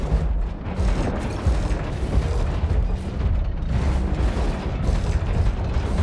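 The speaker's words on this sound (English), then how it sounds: "they're just sitting still and launching missiles" Robots in War Robots: Frontiers firing missiles, a dense rumbling barrage of booms and bursts that continues steadily without a break, heavy and loud throughout.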